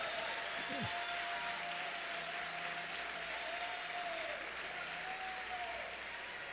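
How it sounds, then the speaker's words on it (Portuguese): A church congregation applauds during a Sunday service, a steady, fairly quiet wash of clapping lasting several seconds with sustained organ or keyboard tones and a brief sliding pitch beneath. "Pode aplaudir."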